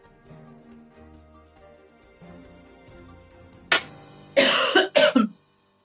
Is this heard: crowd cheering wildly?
no